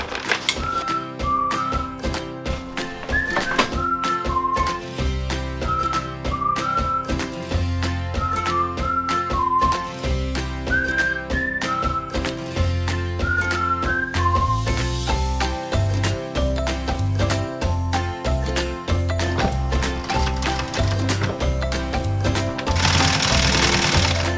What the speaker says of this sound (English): I'm going to sew it in a long chain, and then I'll clip all the little threads at the end